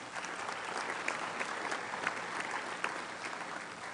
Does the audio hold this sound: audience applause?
yes